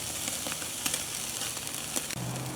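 Steaks sizzle on an outdoor grill during a flare-up fire, giving a steady close hiss and crackle with a few sharp pops and no voices.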